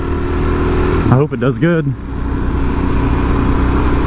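A Suzuki DR-Z motorcycle engine drones loud and steady while riding on the road, and someone speaks briefly over it.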